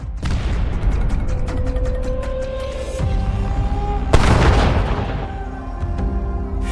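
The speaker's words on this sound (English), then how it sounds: "The second drone hit the fuel truck, causing a second explosion that lit up the sky." A sharp blast bursts out midway through a busy stretch of rumbling noise and crackling pops as a drone strikes a fuel truck in a military convoy, then fades into ongoing background din.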